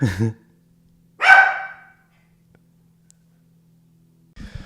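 Dogs bark in two loud, short bursts, the first right at the start and the second after a second of quiet, with a fainter yip near the end.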